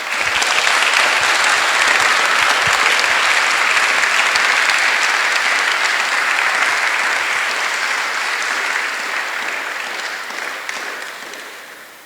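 Audience at a youth leadership induction and closing ceremony applauds in a long, dense round of clapping that holds steady and then tapers off at the end.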